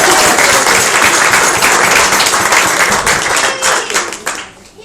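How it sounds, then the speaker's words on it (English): A wedding crowd applauds during the speeches with sustained, loud, dense clapping that thins out and fades over the last second. "That's a round of applause."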